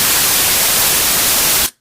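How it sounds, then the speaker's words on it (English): Steady, dense synthesized white noise in FL Studio hissing across the whole range at full loudness, then cutting off abruptly near the end. "we went from this white noise up here"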